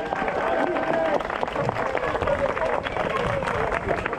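Runners gathered at the start of a looped trail race, one start every hour over 12 laps, clap and cheer briefly while someone talks loudly over the applause.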